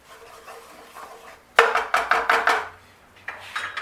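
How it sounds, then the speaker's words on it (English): Flour stirred into melted butter and garlic in a pan: a utensil scrapes and clacks against the pan in quick bursts after a quieter start, with no talking. "You want to just keep mixing this so it doesn't clump"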